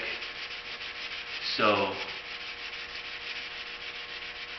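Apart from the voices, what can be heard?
wet sanding car clearcoat with 400 grit sandpaper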